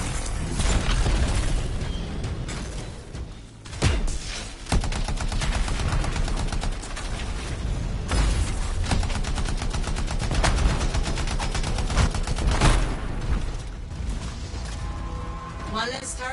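Turret gunfire in the video game Anthem: dense, continuous bursts of rapid automatic shots with booming impacts and mechanical clatter, loud and sustained, with a game voice speaking over parts of it.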